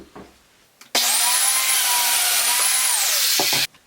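A domino joiner whirs up sharply and runs loud and steady for about three seconds while making a test cut in walnut, then stops abruptly, with faint handling noises before and after.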